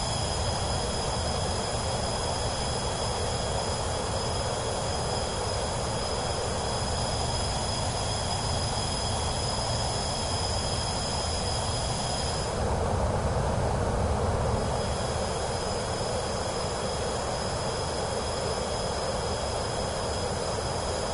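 A PC-24 jet in flight in Flight Simulator 2024, over Australian scenery, gives a steady, loud, unbroken engine and airflow roar with a high whine on top, swelling slightly for a moment near the middle.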